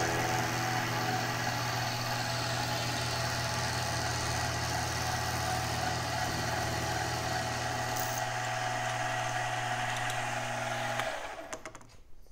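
A Grizzly G0759 milling machine cutting a metal bracket held in a vise, a steady loud motor hum with a grinding cutting noise that runs evenly for about eleven seconds before winding down.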